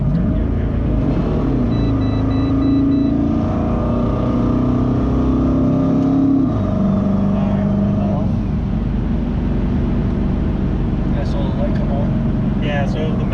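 A stock LS2 Pontiac GTO with a twin-turbo setup running about 20 psi pulls hard in third gear, with a loud, steady engine roar and turbo whine heard close from inside the car.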